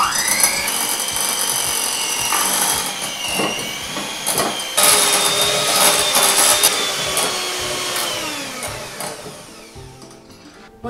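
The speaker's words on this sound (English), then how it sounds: "either with a stand mixer or a hand mixer, beat this butter until it's really light and fluffy" An electric stand or hand mixer beating butter, a loud whirring motor whine that shifts pitch as the speed changes, with scraping rattles, running steadily before tapering off near the end.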